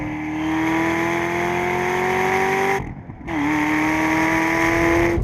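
An SRT Viper GTS race car drives hard on a circuit, its engine holding a loud sustained note, briefly dropping off as the driver lifts, then pulling strongly again close by.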